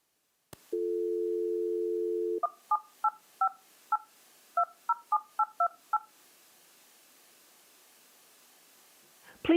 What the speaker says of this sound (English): I'm going to call my cell phone and walk out just because I want to hear it on the other end